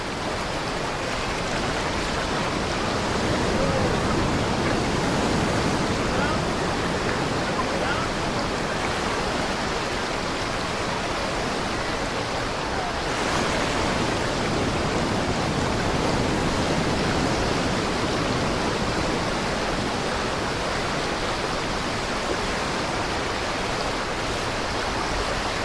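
Ocean waves wash continuously onto a Spanish beach, a loud, broad roar of surf and churning water that barely changes over its length, with a faint swell partway through and no voices.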